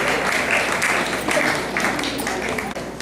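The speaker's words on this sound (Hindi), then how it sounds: "आपकी तालियां बराबर बजती है" Audience applause at a public gathering in Vidisha honouring wheat farmers, a dense steady clapping that fills the whole stretch with slight swells and no pause, with voices faintly mixed in.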